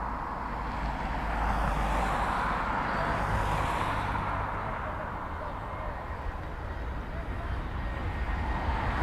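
A fixed-wing airliner on approach to Dublin Airport's runway in wet, windy weather, heard as a continuous broad engine roar that swells slightly and holds steady amid wind noise.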